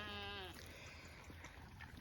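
Sheep on an off-grid homestead bleat in a short harmonic call near the start, followed by a quieter mix of more distant bleats and farmyard murmur.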